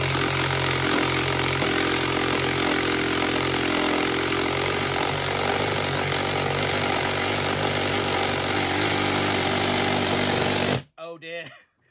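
A copy of a Makita TD173 impact driver drives a lag screw with a loud, continuous hammering rattle for about eleven seconds, then cuts off abruptly. A voice is briefly heard as it ends.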